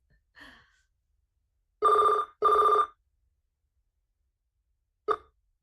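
A telephone bell rings in two loud, closely spaced bursts, with a short clipped third ring near the end, heard during a school counselor advisory meeting. A faint breathy sound comes before the rings.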